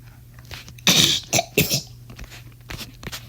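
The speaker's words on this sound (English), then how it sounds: "I was just clearing my throat." A person clears their throat in a few harsh bursts, close and fairly loud, with quieter rasps trailing off afterward.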